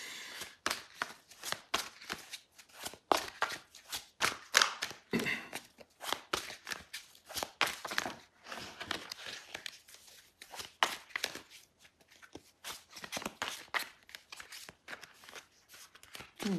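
Quick, irregular papery riffles and taps of cards being shuffled by hand, close and fairly quiet, with brief pauses between bursts.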